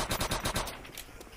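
A rapid burst of automatic gunfire in Call of Duty: World at War, about six quick evenly spaced shots up front that fade into quieter scattered reports.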